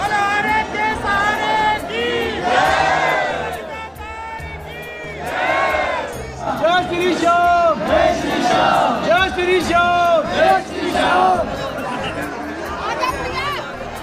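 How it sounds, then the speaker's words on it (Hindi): A dense crowd of pilgrims presses at the main entrance of the Khatu Shyam temple in Rajasthan, with loud overlapping chatter, shouted calls and chanting voices filling the space continuously. "मंदिर के मुख्य द्वार पर भयंकर भीड़ के बाद सभी लोगों की अंदर एंट्री हो रही है"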